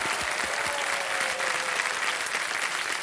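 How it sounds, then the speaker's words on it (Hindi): Loud, dense applause from a television game-show studio audience, a steady wash of clapping that runs unbroken for about three seconds with no voices over it. "एक बार जोरदार तालियां हो जाए चंचल सिंह के लिए।"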